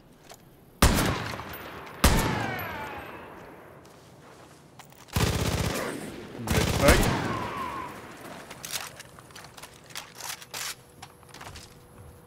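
Powerful rifle gunfire in the video game Far Cry New Dawn: several sharp, loud shots with ringing decay, spaced apart, including a rapid cluster, with brief exclamations from a player.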